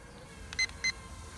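A toy camera drone, a Tello clone, gives two short, clear electronic beeps in quick succession, fairly faint over a low background hiss.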